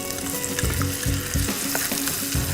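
Tomatoes dropped into hot butter frying in a pan, giving a dense, continuous close-up sizzle with a soft low bubbling underneath and no talking.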